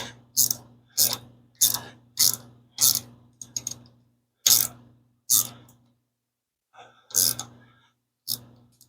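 A hand ratchet tightening rocker arm bolts on a home-built street/strip engine, sharp repeated clicking strokes in a steady rhythm, close and loud, with a short pause before a few final pulls.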